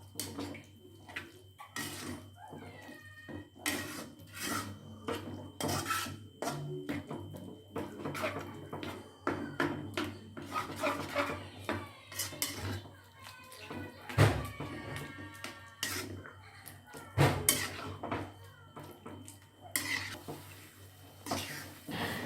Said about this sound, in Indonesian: Langsung aja diaduk teman-teman sampai dia nanti kental.